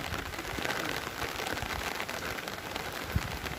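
Steady rain hiss falls outdoors on a climb under a small leaf held as shelter, an even wash throughout with a single sharp drip or knock near the end.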